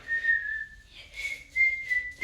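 A child whistles a sustained, wavering tune with a few breaks between phrases, fairly quiet and close, with no talking.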